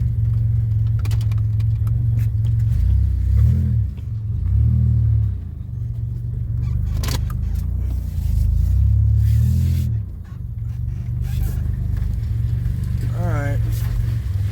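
A 2007 Pontiac Grand Prix engine runs at idle with a steady, loud low rumble that swells and dips slightly over the length, with some brief clatter partway through.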